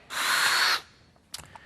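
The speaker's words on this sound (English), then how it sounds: "We got to drill out these 2 holes on the top here, because this is going to be a mounting location for our fuel injector." Power drill boring holes in a metal fuel injector mount for an RZR Turbo install, one loud whirring burst of about three quarters of a second, then faint clatter and a short sharp knock, with no voices.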